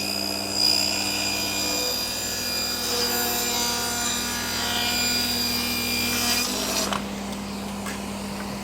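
A table saw with a splitter, blade lowered, cuts through a piece of timber with a steady loud whine and rough sawing texture for about seven seconds, then the cut ends and the motor noise drops.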